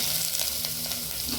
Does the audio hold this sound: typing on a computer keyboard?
no